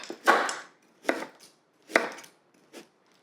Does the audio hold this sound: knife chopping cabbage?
yes